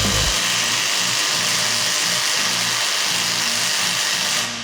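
Power tool straining against a stubborn nut on a Renault Magnum truck, a loud continuous whirring hum with a low pulsing throb that runs steadily, then cuts off near the end.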